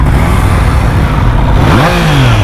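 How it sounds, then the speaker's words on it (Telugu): A superbike on its stock exhaust revs close by, a steady engine drone rising in pitch near the end as the throttle opens. "స్టాక్ ఎగ్జాస్ట్ కానీ ఆల్మోస్ట్ ఆఫ్టర్ మార్కెట్ లాగా వస్తుంది."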